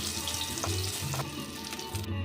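Green tomato frying in hot oil in a home kitchen before rohu fish is cooked in the same oil, a continuous close sizzle with a few brief bursts and stirring scrapes.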